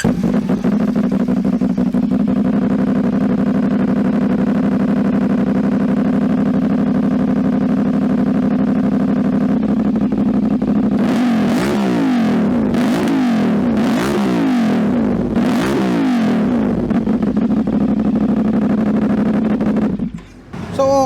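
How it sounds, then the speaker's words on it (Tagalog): CFMOTO NK450 motorcycle with an SC Project slip-on exhaust idling loudly and steadily up close, then several sharp throttle blips rising and falling in quick succession before settling back to idle. "Ito yung sound check nung SC Project Slip-On."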